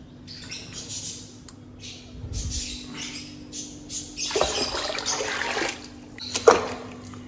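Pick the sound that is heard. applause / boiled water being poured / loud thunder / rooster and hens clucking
boiled water being poured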